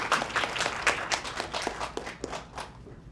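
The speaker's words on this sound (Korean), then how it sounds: "대표님 역시 박수로 모시도록 하겠습니다." An audience at a startup demo day in Busan claps to welcome a speaker to the stage, a loose scatter of distinct hand claps with an uneven rhythm that thins out toward the end.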